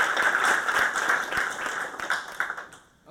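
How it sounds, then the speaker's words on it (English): A tech conference audience gives a round of applause for a speaker, a dense mix of many hands clapping near the stage that thins out and fades toward the end. "So I'll give him a round of applause,"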